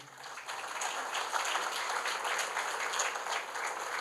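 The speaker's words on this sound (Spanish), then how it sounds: "le damos un aplauso de bienvenida" A seated audience at an academic computing talk gives a steady round of welcoming applause, moderately close and lasting several seconds with no talking.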